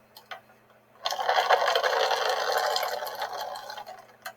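Water streams and drips out of wet soil packed with plant roots as it is squeezed by hand, a dense close trickle that starts suddenly after a few faint drops and runs for several seconds before tapering.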